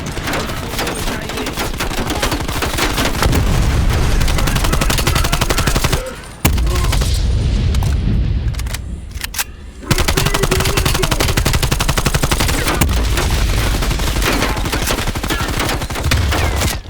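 Suppressive automatic gunfire pours out in the video game Call of Duty Black Ops Cold War, loud and sustained rapid-fire bursts that break off briefly twice before resuming.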